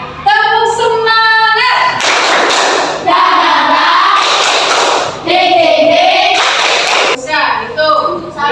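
Students in a classroom perform a rhythmic spirit clap, bursts of loud group clapping alternating with sections of the class chanting together.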